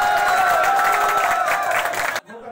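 Audience clapping and cheering at the closing prize ceremony of a district-level carrom tournament in Prayagraj. The applause is dense and steady, then cuts off sharply near the end.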